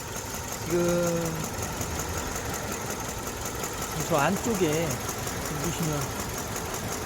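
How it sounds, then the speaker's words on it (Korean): A car engine idles steadily in the engine bay with a shaky, unbalanced running condition, producing a continuous mid-level hum while someone talks over it. "엔진룸이 좀 많이 지금 떨고 있거든요"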